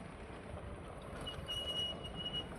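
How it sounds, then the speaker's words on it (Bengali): A long train rolls past in a steady, broad rumble, with a thin metallic wheel squeal rising briefly partway through, moderately loud and without voices. "দেখুন বন্ধুরা, ট্রেন চলে গেল এখানে"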